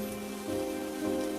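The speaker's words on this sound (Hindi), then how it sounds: "बारिश बहुत तेज हो रही है" Heavy rain pouring down over a village home, a steady close wash of drops with a low tonal hum running beneath it, and no voices.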